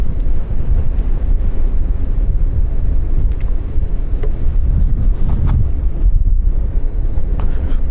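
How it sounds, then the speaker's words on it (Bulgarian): Strong headwind buffets the microphone on an exposed open stretch during a hike, a steady loud low rumble that roars continuously with brief gusty surges and no clear talk. "Много силен насрещен вятър има"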